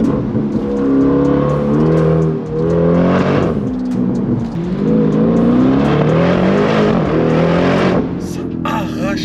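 A deep, throaty Lamborghini Urus Performante SUV exhaust roars and rises through gear changes, loud and close, with a voice speaking over the engine.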